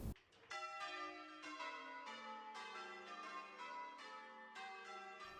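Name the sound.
church bell ringing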